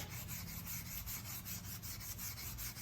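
Steady, rhythmic wet rubbing and rasping of a wet sponge over putty on armor, close and fairly loud, continuing without pause and with no voices.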